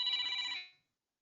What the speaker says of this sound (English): Was that Derek McInnes on the phone, Ralph?